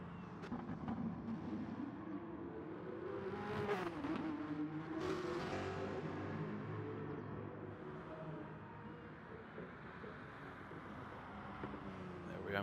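Racing video game cars, including a V8 and a Jaguar, accelerating and passing, engine whine rising and falling under steady commentary, fairly faint overall.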